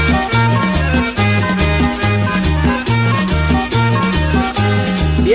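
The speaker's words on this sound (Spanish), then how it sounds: "Y otra vez el acordeón." An accordion plays steady rhythmic chords within loud, continuous cumbia party music, driven by a repeating bass pattern and busy percussion, with no voices.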